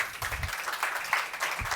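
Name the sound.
audience applause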